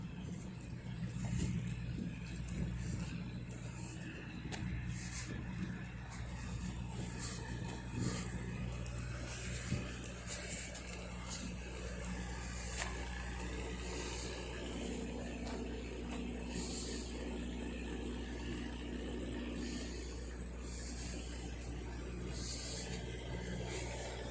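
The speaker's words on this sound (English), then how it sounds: "A truck that's got people squatting and it is kind of following me to the left, very slowly down 79th." Traffic noise on 79th Street, with a truck carrying people in the back creeping slowly alongside; a steady low engine rumble and road hum run continuously at moderate distance, with no talk.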